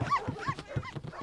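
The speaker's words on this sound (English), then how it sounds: "The dog can stay until Sunday, Sharon." A dog whimpers and yips in short, quick bursts, close and fairly soft.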